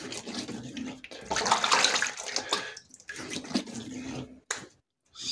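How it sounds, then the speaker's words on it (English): Cold water splashes at a sink as a face is washed by hand, close, busy bursts of splashing broken by brief pauses, with no talking. "So I wash up my face with cold water."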